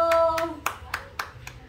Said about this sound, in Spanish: También aplaude.